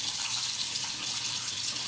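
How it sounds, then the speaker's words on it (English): Water runs steadily from a bathroom tap, warming up for washing, a close continuous hiss and splash with no pauses or voices. "have my water running just to get my water warm"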